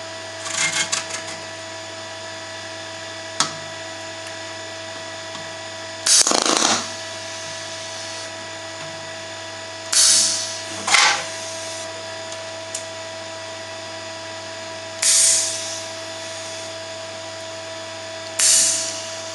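MIG welder tack welding a sheet steel box section: short, separate buzzing crackles of a few seconds each, spaced apart over a steady low machine hum.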